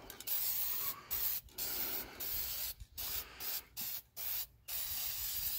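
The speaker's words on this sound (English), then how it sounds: "And like any spray paint, you dust it." An aerosol can sprays paint onto hot engine headers in short hissing bursts, close and fairly loud, separated by brief pauses, with no voices.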